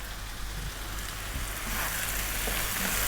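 Coriander and chili powder hit a hot pan with tomatoes over high heat, giving a continuous close hiss and crackle that grows slightly louder toward the end.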